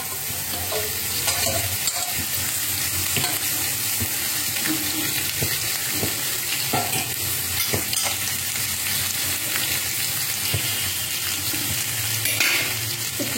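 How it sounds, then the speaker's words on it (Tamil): Snake gourd fries in a pan with fried urad dal as a curry is cooked, giving a continuous close sizzle broken by scraping and clinking strokes as a spoon stirs the pieces. "இந்த பொடலங்காயை போடுறேன் நான்."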